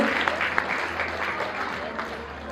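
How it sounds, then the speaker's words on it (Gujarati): An audience at a junior school annual day celebration applauds the mothers with a burst of steady clapping and crowd noise, with a voice briefly audible under it. "બધી મોમ્સ માટે જોરદાર તાળીઓથી એમને વધાવીએ"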